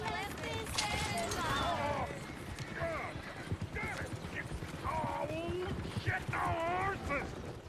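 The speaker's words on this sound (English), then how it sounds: "Damn horses!" Horse hooves clop along in Red Dead Redemption 2, a steady run of hoofbeats mixed with game noise while voices talk over it throughout.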